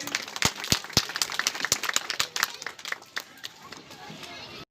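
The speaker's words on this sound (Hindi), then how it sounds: "एक बार ताली बजाकर स्वागत करेंगे।" Audience clapping to welcome a guest at a Corona warriors honour ceremony held by a colony development committee, with sharp, irregular claps over a steady crowd wash that thins and fades toward the end.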